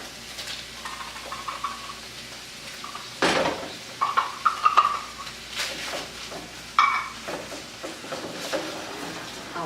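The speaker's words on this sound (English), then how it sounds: "I'll mix it around." Ground beef with canned green chilies stirred in a pan for empanada filling: soft sizzle under a run of spoon knocks and scrapes against the pan, clustered in the middle, no talk.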